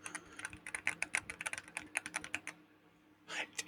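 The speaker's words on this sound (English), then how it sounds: "How did the keys sound, Yuzi?" Rapid typing on a Logitech Pro X TKL Rapid keyboard: a quick run of crisp, close key clicks in an uneven rhythm, then a short pause and one last burst, quiet and alone with no talk.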